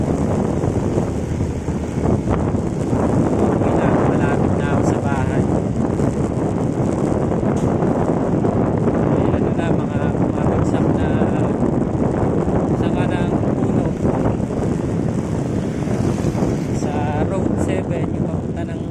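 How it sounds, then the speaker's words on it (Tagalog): Loud, constant wind roaring and buffeting the microphone throughout, a dense rushing noise with no pauses. "Grabe ang lakas ng hangin."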